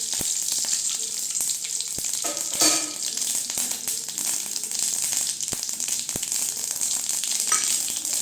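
Mustard seeds and urad dal crackle and sizzle in hot oil in a wok, a steady close frying hiss broken by sharp pops and a brief burst of spattering midway, with no talking.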